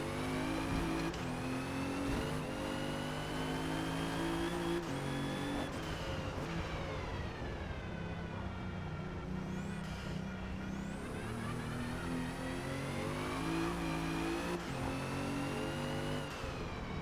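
A 2017 Alfa Romeo Giulia races around the Nürburgring in Forza Motorsport, its mid-pitched engine droning steadily through the whole stretch with repeated rising and falling tones as it shifts and revs, loud and continuous with no voices.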